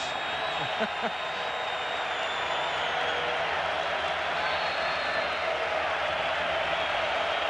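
Steady broad roar of a 106,508-strong crowd at Michigan Stadium during a 1997 Notre Dame vs. Michigan college football game, continuous and distant-sounding, with a voice briefly audible near the start.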